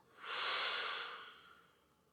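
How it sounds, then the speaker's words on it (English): A single slow, soft exhale during a yoga session: an airy, breathy hiss that swells quickly and then trails off gently over about two seconds, close and quiet. "Breathing out."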